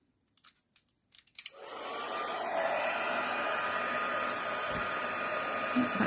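A craft heat tool blows hot air at a powder during multi-layer masking work, starting as a loud steady whoosh after a few faint clicks and handling noises, holding constant to the end, close and alone.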